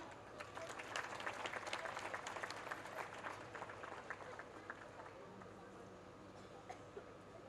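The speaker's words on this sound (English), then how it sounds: "I welcome her to say a few words with a huge round of applause" A school annual day crowd gives a big round of applause, dense clapping that swells early and then thins, with faint voices and coughs in the hall.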